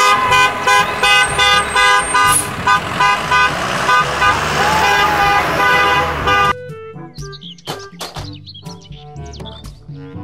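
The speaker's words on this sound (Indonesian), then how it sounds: "Mobil, bus, sekolah." Toy school bus sounds repeated honks in a choppy rhythm over busy electronic tones and chirps, then drops to sparser toy effects near the end.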